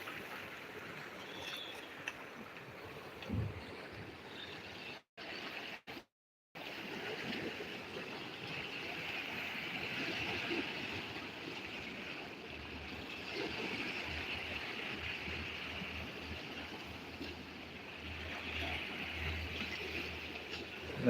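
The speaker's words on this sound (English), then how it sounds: "There's the waves." Sea waves surging and washing close up at the beach, a steady broadband rush of water with gentle swells in loudness and a couple of brief dropouts early on.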